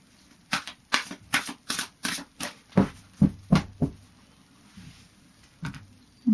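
A deck of Gateway Oracle cards by Denise Lynn is shuffled by hand, making about a dozen quick, close riffling flutters in a steady rhythm, then a few softer taps.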